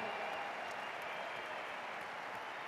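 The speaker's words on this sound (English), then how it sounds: "they deserve an incredible round of applause" Steady applause from a crowd fills the whole stretch, a dense wash of clapping at an even level.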